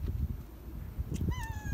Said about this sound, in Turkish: Bugün çok huysuzdu. Aşırı da miyavlıyordu.